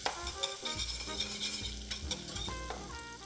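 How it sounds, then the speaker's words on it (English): Butter and flour whisked together in a pot for a cream of broccoli soup roux bubble and sizzle softly under rhythmic metal scraping and light clinks of the whisk, with no speech. "Now I'm using a whisk for this."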